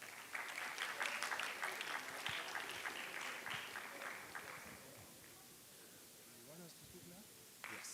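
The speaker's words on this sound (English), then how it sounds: "A round of applause for them." Applause from an audience at a formal education event swells into a dense wash of clapping and then gradually thins and fades over several seconds, ending in quiet room noise.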